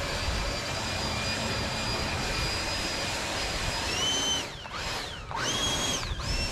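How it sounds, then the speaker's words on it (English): A battery-powered leaf blower blowing straw into a yard, a loud steady whine with a high motor tone that cuts off, restarts and ramps up twice near the end. "we're gonna take our battery powered blower, and we are going to start tucking this straw in."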